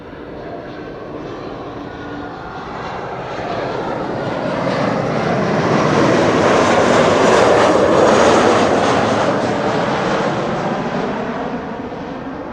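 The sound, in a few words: KLM Embraer 190 arriving at Schiphol from Berlin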